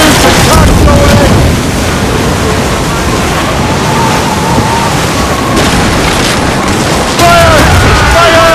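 Ship cannons fire and shots strike a vessel during a naval battle in the video game Assassin's Creed Rogue. The booms and impacts merge into a loud, rumbling roar, with crew voices shouting over it.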